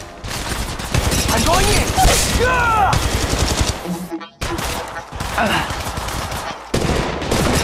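Rapid automatic gunfire bursts from a squad firefight in Apex Legends Mobile, loud and close, with brief pauses between volleys and a shouted voice over the shooting.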